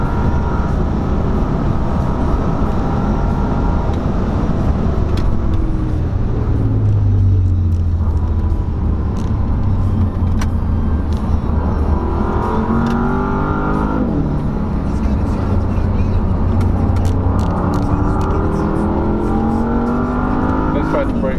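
Asian Le Mans race car on hot laps at Sepang circuit, Malaysia, heard loud from close by as the engine repeatedly climbs and drops through revs, with people talking over the droning engine noise throughout.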